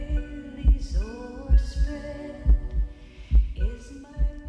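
A heartbeat lullaby recording of heart sounds meant to soothe babies: deep, soft paired thumps repeat at a slow, even pulse under gentle sustained musical tones.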